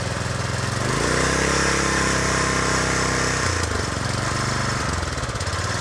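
A trash-picked pressure washer's small engine runs steadily close by, a loud chugging drone with rapid firing pulses that rises briefly in pitch and then settles back, with no voices.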